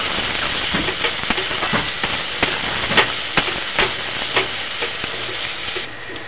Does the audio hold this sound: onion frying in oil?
yes